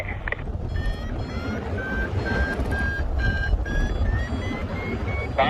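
A series of short electronic beeps from a paragliding variometer climbs steadily in pitch over rushing wind noise, a rapid chirping tone signaling lift while thermaling.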